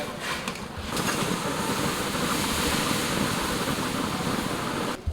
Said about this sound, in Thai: น้ำต้องเดือดไฟต้องแรงนะครับ